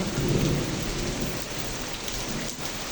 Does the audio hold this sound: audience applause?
no